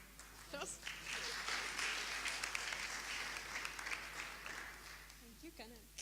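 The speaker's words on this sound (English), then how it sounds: "First applause. Okay. Applause." Applause from a conference audience, a moderate burst of clapping that swells in the middle and thins out, with voices talking over its start and end.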